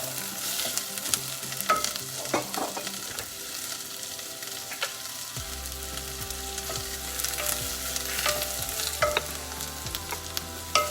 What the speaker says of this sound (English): I'm going to add the green pepper here. Okay, one small bowl, and mix it well.